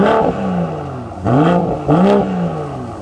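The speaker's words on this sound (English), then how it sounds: "Matt, give me some revs." A 2023 BMW M340i with an AWE exhaust system revs in two quick bursts, the pitch rising and falling each time over a steady idle rumble.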